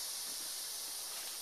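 Rock candy dropped into an open beer can sets off a steady, bright fizzing hiss, continuous and fairly soft, with no voices over it.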